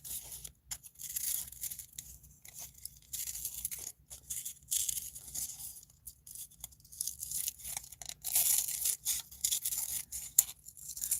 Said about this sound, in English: So I'm going to cut this watch face out.